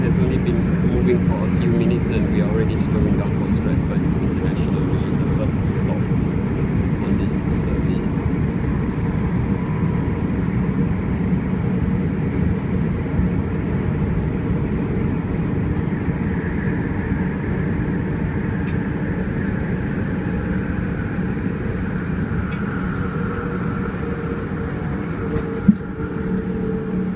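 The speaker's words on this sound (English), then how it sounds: "the train has only been moving for a few minutes and we are already slowing down for Stratford International, which is the first stop" A Southeastern Javelin Hitachi high-speed train slows for Stratford International. The cabin's low, steady rumble and hum sound close and continuous, and a faint higher whine shifts partway through.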